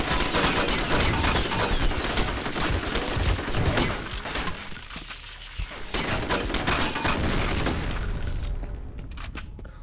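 Sustained automatic gunfire from the F.E.A.R. shooter game, dense rapid bursts with mechanical clatter, loud and close, continuing almost without pause before thinning out near the end.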